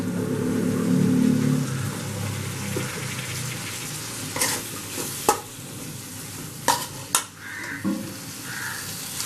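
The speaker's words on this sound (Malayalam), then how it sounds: "മപ്പാസിന് ടൊമാറ്റോ ഒരുപാട് വഴറ്റേണ്ട ആവശ്യമില്ല, ചെറുതായിട്ടൊന്ന് വാടിയാൽ മതി ടൊമാറ്റോ." Sliced tomatoes sautéing in a pan for Kerala fish mappas, a steady close sizzle with a few sharp clinks of a utensil stirring against the pan.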